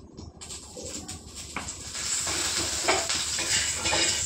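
Water sprinkled by hand sizzles and crackles on a hot tawa griddle, a steady hiss that grows louder partway through, heard close with no talking.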